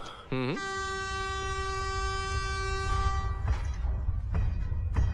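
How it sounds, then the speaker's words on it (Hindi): A train horn sounds on a railway, a loud sustained tonal blast with rich harmonics held for about three seconds over a rumbling rail roar that keeps rolling after the horn stops. "ये तो ट्रेन की आवाज आ रही है"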